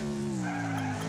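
A car skids through a drift in the Wreckfest demo, its tires squealing in a steady rising whine over the engine's tonal drone, loud and close, with no voices.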